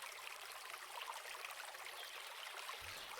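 Steady running water from a turned-on tap, a continuous broadband rush holding an even level throughout, fairly close and with no voices over it.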